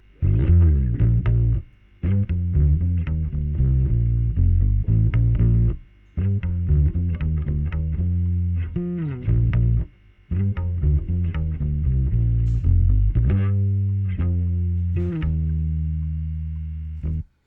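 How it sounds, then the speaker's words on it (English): A bass guitar plays a busy, walking line of quick plucked notes with short pauses between phrases, close and solo, no other instruments. "I've played a running bass line."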